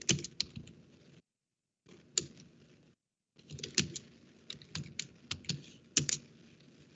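Computer keyboard keys typed in quick irregular bursts while entering a terminal command, close and clear, with two short pauses between runs of keystrokes and no talking.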